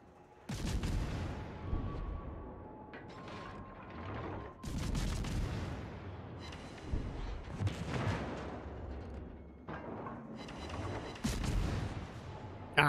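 Heavy naval gun salvos from a Nevsky warship firing armor-piercing shells in World of Warships, a series of loud deep booms spaced through the stretch with rumbling tails and sharp onsets, no voices over them.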